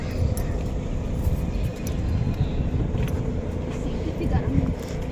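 A parked car that has been standing in the sun idles with its air conditioning running, a steady low engine rumble throughout, with voices and outdoor bustle around it.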